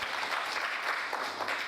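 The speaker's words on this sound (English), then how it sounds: "Please a round of applause." An audience at a project launch event claps in a brief, steady round of applause, dense and fairly close, with no voices standing out.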